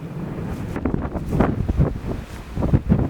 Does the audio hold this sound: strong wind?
yes